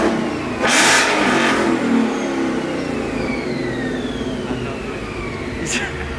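A supercharged Ford Mustang with an X-pipe exhaust revs briefly near the start, then settles into a steady idle rumble while people talk.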